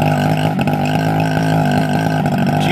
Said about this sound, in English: GT-80 engine.